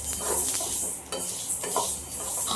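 Mustard seeds and fenugreek roast in a pan for mango pickle, with soft sizzling and crackling under scraping stir strokes, close and steady, no voices.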